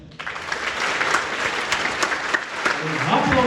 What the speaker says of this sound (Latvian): Tagad droši aplaudējam.